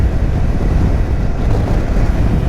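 Strong wind roars across the microphone beside a coastal road near the ocean on Highway 101, a loud, steady low rumble with no break.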